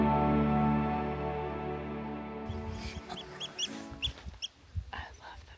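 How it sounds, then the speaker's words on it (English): Oystercatchers in Lofoten, Norway: a run of sharp, high piping calls in quick bursts from the second half on, fairly near, over a steady low hum that fills the first part. "So she said those are oyster catchers."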